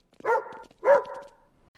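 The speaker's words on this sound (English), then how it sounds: "I know Waffle's bark! This way! Follow the barking!" A dog gives two quick barks close by, each a short sharp burst with a brief pause between, then silence.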